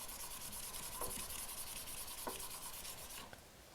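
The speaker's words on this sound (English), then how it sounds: "And then once again, just sand it sideways" Sandpaper rubs across a wood piece by hand in sideways strokes, a soft, close, steady scratching hiss with a few light knocks.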